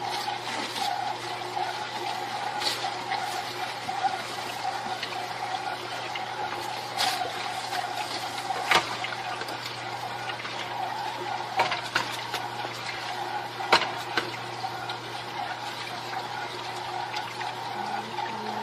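A Tribest Slowstar vertical slow juicer crushes celery, with a constant low motor hum beneath wet crunching, snapping and trickling juice, and a few louder cracks along the way.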